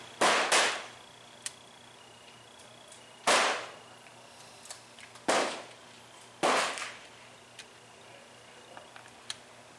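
An M1A rifle fires four spaced shots at long range, each a sharp crack with a short decaying tail. Faint ticks and a thin steady hum sit under them.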